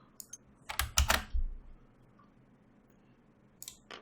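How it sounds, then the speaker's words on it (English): Deck of game cards for the Mage Knight board game being shuffled, a few quick riffling bursts close by in the first half, then quiet, with a brief rustle near the end. "Give this a shuffle."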